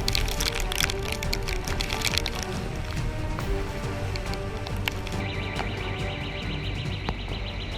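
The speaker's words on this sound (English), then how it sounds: "Fierce winds and torrential rain turned the bustling city into a picture of devastation." Typhoon winds and torrential rain batter a city, a dense, steady roar of rushing air and pouring water with scattered cracks and splashes throughout, loud and continuous with no voices.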